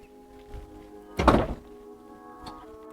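Seat hinges in a 2009 Mitsubishi Outlander are pulled and the seat pops up with one firm, close thunk, preceded and followed by faint mechanical clicks.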